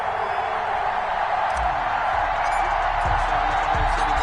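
Stadium crowd noise from an American football video game, Houston Texans versus Kansas City Chiefs, a steady loud roar with swells of cheering filling the whole stretch.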